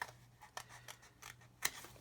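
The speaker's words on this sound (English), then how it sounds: "I'm going to cut them out with scissors" Scissors cut out small Tamiya 1/32 Mosquito stencil decals on wet transfer paper, making several quiet, close snips at an uneven pace with one sharper snip near the end.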